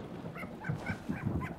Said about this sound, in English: your dogs are acting a bit strange out there